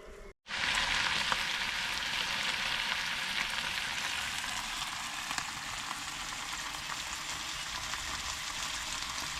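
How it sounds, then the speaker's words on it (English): Bacon sizzling in a pan at a campsite, a steady close crackling hiss that starts abruptly and continues evenly with no talking. "Got a bit of bacon on the go."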